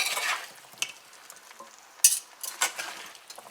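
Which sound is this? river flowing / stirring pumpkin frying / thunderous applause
stirring pumpkin frying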